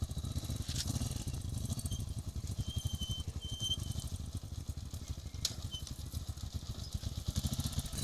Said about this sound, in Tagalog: ang lalalim ng uka kaya medyo nahihirapan yung tricycle